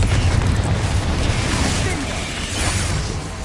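A Confringo fire spell bursting in Hogwarts Legacy, a loud continuous roaring blast with crackling that holds for a few seconds, with a voice faintly underneath.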